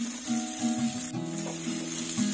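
Garlic and onion sizzle in hot oil in a pan where meatballs were just fried, a steady crackling hiss with low hum throughout, close and continuous.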